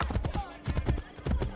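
A horse's hooves clip-clop in quick, steady beats at close range during gameplay of Assassin's Creed: Brotherhood.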